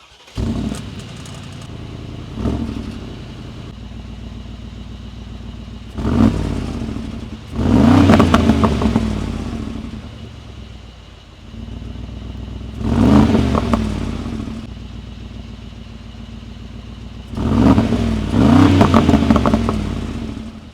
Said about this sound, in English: So people, let's now start the G700 Brabus. Sounds like a monster.